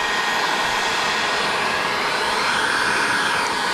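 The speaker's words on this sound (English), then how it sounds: "So I got my heat gun." A heat gun blows steadily while warming windshield film on a Honda CR-V, a close, constant airy roar with a faint whine and no breaks.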